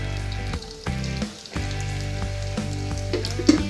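Cumin seeds, garlic and ginger frying in hot oil in a pan on the stove make a continuous close sizzle and crackle, broken by short dips and faint steady hum underneath.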